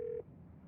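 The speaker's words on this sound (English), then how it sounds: "You pull out your phone and call." A phone call is dialed in the video game Scarlet Hollow, a single short tone that cuts off quickly into quiet room noise.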